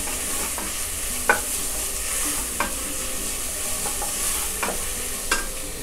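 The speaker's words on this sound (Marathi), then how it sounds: "हे बघा, आता आपला कांदा चांगला आळत आलाय" Chopped onions fry with a steady, close hiss in a pressure cooker, with occasional sharp clinks of a stirring spoon against the metal.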